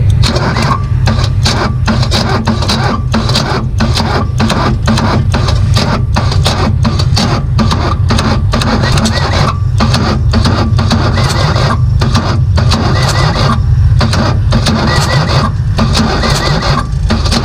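A Ditch Witch 3500 trencher engine, once abandoned, cranks over steadily and loudly at close range, with a continuous rhythmic churn running unbroken throughout.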